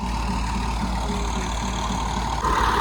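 A tractor engine idles with a steady low rumble and a faint rhythmic knock, running continuously at an even level with no talking.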